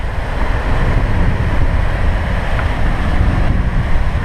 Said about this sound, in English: Waves keep coming into the cockpit.